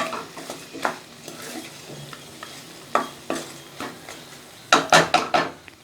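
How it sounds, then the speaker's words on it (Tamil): Mushrooms with salt being stirred in a pan for mushroom kurma: irregular scraping and clacking strokes of a spoon against the pan over a faint sizzle, with a quick flurry of scrapes near the end, close and clear. "சேர்த்துட்டு மறுபடியும் நல்லா கலந்து விட்டுருங்க"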